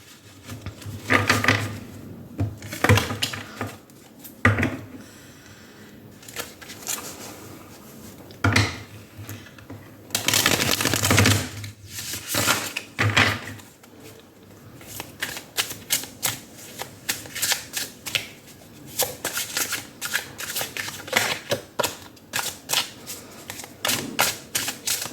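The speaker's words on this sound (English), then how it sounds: "let me give these cards a good shuffle" Repeated crisp riffling and slapping of tarot cards being shuffled, in bursts with short pauses between, close and fairly loud, no talking.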